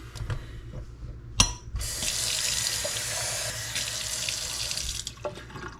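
Tap water runs into a glass, a bright gushing stream that starts after a small clink and keeps flowing steadily at close range before tapering off.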